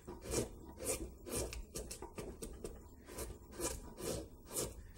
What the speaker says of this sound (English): and just scoop that wood away